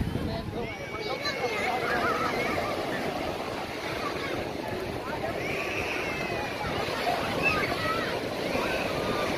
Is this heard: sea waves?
yes